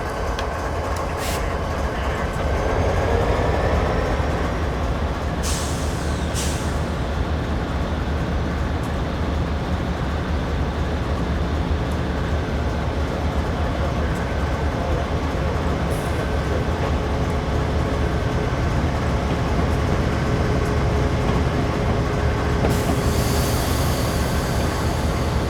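A locomotive running under throttle in the Train Simulator 2013 video game on the Granite to Wycon route, a steady loud engine rumble with rail noise and a few brief clanks, continuous and alone.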